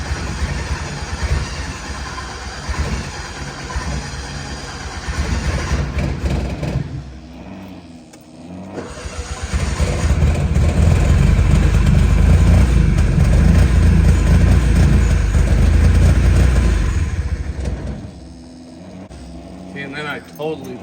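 A fuel-injected 1972 Honda N600 engine cranks and fires, sputtering and catching before roaring up loudly for several seconds, then dropping off as it falters near the end.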